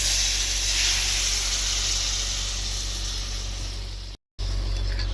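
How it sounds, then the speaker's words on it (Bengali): A steady, loud hiss and sizzle rises as water hits hot, fried masala in a pan for a pointed gourd and shrimp curry, continuing evenly before a sudden brief cut near the end. "দিলাম যেহেতু পটল তো, এই মশলাটা কষা হয়ে গেছে, হ্যাঁ, আমি এবার জল দিই।"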